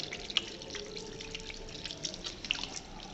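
Tap water runs quietly over hands being rinsed at a sink, a faint steady trickle broken by soft drips and splashes, with no talk.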